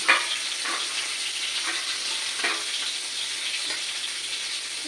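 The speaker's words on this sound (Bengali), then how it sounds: "হাতা দিয়ে নেড়ে দিচ্ছি" Cauliflower fries in hot oil with a constant close sizzle, while a ladle stirs it in a few separate scraping strokes against the pan.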